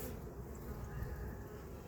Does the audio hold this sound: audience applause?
no